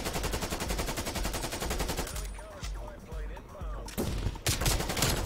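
Rapid bursts of KRIG-6 assault rifle fire in the video game Call of Duty: Black Ops Cold War, loud and close, with dense automatic volleys broken by a short lull and resuming near the end.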